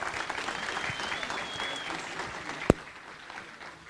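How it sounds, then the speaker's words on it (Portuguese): Audience applause after a CSS componentization talk, a steady broadband clatter of clapping that runs throughout at moderate loudness, with one sharp loud crack near the end. "Guilherme Serrano, uma salva de palmas"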